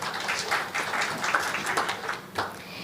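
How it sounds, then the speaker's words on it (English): An audience applauds the NCPD Choir at a health project launch event, with sustained clapping from many hands at moderate distance. A few louder bursts rise out of the crowd for about three seconds. "A round of applause to the NCPD Choir."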